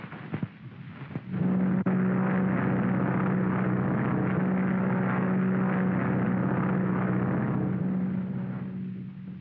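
A propeller airplane flies close by with a steady, loud droning hum that comes in after a short thump and holds for several seconds before easing slightly at the end.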